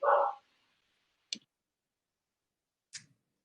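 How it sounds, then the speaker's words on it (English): Household dogs give a few short, separate barks, faint and spaced a second or two apart, with a louder yap at the start and quiet between. "Sorry about the dogs."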